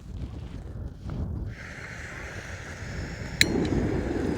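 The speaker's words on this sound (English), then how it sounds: "It's a very windy day today, or it's windy here anyway" Strong wind on a very windy day outdoors buffets the microphone with a steady low rumble and gusty roar that swells slightly toward the end, with no talking.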